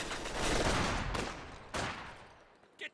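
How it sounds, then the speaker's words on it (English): Gunfire in a World War II strategy game match, a rolling, echoing volley of shots with a booming tail, followed by two more sharp reports that fade out, heard close and alone. "Sniper continues to snipe away at LMG greens"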